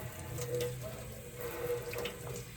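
Water from a tap runs steadily over hands being rinsed at a sink, a continuous close splashing hiss that lasts throughout with slight changes as the hands move.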